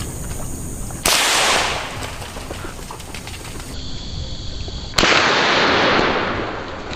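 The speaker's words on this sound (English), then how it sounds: "The moment targets appear, a precise shot drops one." Two sharp, loud rifle shots fired at wild hogs outdoors, a few seconds apart, each with a long decaying echo and no talk.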